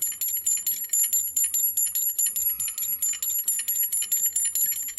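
A small bell rings rapidly and continuously with a bright, high, metallic tinkle, its strikes coming in a steady, quick rhythm close by, with faint low background noise underneath.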